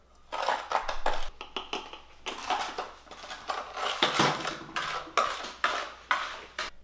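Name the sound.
mixing cinnamon and sugar on a plate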